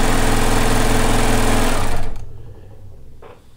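A serger stitching knit fabric for a kimono runs loud and fast with a steady high whir for about two seconds, then stops, leaving faint room sound and a brief soft noise.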